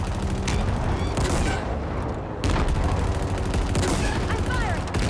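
Rapid automatic gunfire in Halo Infinite, loud and nearly continuous with a short pause partway through, fired during an indoor vehicle fight.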